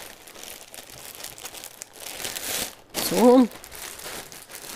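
A plastic bag crinkling and rustling close by in sustained bursts, rising to a louder crackling stretch near the end, with a brief vocal sound over it.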